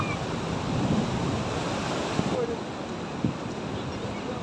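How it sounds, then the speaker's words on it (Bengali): Strong sea waves break and surge steadily on a rocky beach at Inani, Cox's Bazar, a dense continuous roar with wind buffeting the microphone and a couple of faint knocks. "প্রচন্ড ঢেউ"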